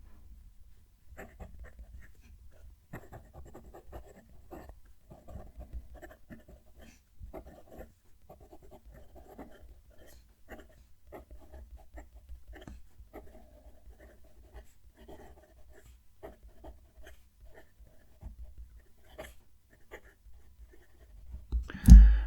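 A HongDian 960 fountain pen nib writing on paper, giving a faint, close scratchy scritch of strokes in an irregular rhythm over a low background hum, ending with a louder bump.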